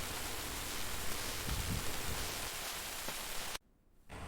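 Rain falls steadily on a rainy day as a dense, even hiss with no voices, then cuts off abruptly near the end.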